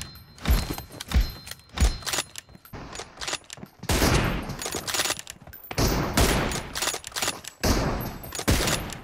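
Shots ring out in the PUBG video game, first as a few sharp separate cracks, then dense sustained bursts of loud, close fire continuing throughout.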